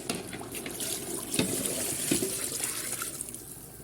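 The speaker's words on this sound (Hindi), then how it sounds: "पानी मैंने मेजर करके रखा हुआ, पानी डाल देंगे हम इसमें।" Pre-measured water pours steadily into a cooking pot of chicken yakhni for degi chicken pulao, a continuous gushing splash with a few small clanks.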